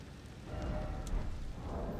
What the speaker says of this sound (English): I think the rain's coming back